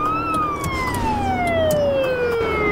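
A Russian ambulance siren wails loud and close in a long falling sweep over the rumble of road traffic.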